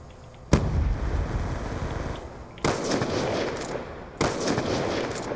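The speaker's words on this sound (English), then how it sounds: "Okay, I just shot a dude in the back of the head. Twice." Three loud gunfire bursts from the Black Ops 2 video game, each a sharp onset followed by sustained rattling noise, close and with no talking over them.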